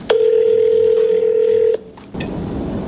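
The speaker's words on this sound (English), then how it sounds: "So I'm giving him a call now." Telephone call tones, starting with one long steady dial-tone-like beep of about a second and a half, then a short pause and faint line noise, heard close and loud with no talking.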